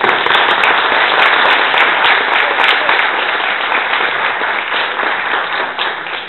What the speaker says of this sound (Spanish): un aplauso muy fuerte para él